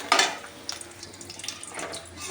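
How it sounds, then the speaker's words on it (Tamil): Dried cluster beans fry in hot oil over a medium flame, giving a crackling, watery sizzle with a sharp burst at the start and then softer spitting that carries on. "இப்போ நான் உங்களுக்கு பொறிச்சு காட்டுறேன் எண்ணெய் நல்லா காஞ்சிச்சு மீடியமான தீயில் வச்சு"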